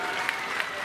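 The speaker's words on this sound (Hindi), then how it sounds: "तो जोरदार ताली पूज्य महाराज जी खातिर।" Dense crowd applause for Maharaj ji at a public event where Chief Minister Yogi inaugurates development projects, a steady loud wash of many hands clapping throughout, with faint voices underneath.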